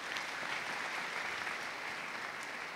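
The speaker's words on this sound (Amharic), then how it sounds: "አጨብጭቡላት" A congregation at an Amharic church testimony service breaks into sustained applause, an even, continuous patter of many hands heard at a distance and fairly quiet throughout.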